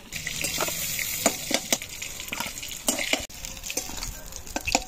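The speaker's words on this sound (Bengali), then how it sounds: "মাছের মাথা ভাজাটা হয়ে গেছে, এবার তুলে নেবো।" Rohu fish head frying in hot oil in a pan, a steady close sizzle broken by repeated sharp clicks and scrapes of a utensil stirring and turning the pieces, with no talking.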